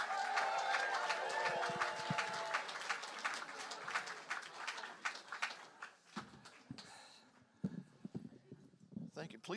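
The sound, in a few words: audience applause for comedian Andy Herman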